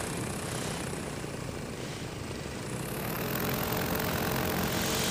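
A paramotor engine runs steadily and loud for the whole stretch, a continuous droning buzz that brightens slightly partway through, with no talk.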